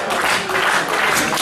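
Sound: wrestling crowd applauding

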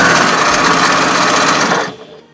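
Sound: sewing machine stitching a dog bow tie

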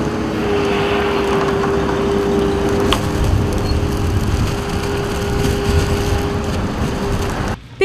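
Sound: tractor engine pulling a truck on a snowy road

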